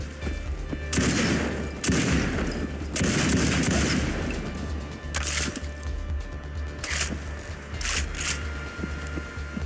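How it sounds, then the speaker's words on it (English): Automatic AA-12-style assault shotgun fired in Fallout 4, with several loud sustained bursts of rapid blasts broken by short pauses and a few shorter volleys near the end. "This is actually an automatic shotgun that is based on the AA-12 prototype."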